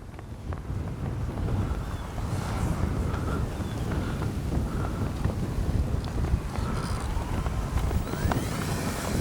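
Strong wind buffets the microphone at a model plane flying field, a steady, loud rumbling roar with gusty fluctuations that lasts the whole time without letting up.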